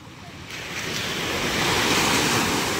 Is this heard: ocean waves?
yes